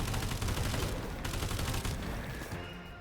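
The Chimera Rapid in the video game Sulfur fires a fast, continuous burst of shots that rattles for about two and a half seconds before trailing off.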